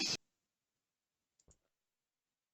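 A single short, sharp mouse click at the start while playing a Minecraft Skyblock server, followed by silence and then a faint, brief soft tap.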